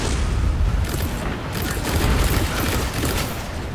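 A loud bomb blast and heavy booming in Destiny 2 gameplay, with deep explosive rumbles and crackling bursts of weapon fire rolling through the whole stretch with no pause.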